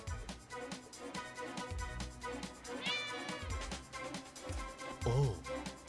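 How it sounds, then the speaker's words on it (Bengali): A cat meows in a cartoon, giving a couple of short, rising cries amid background music and sound effects. "ও তাহলে বিড়াল ছিল"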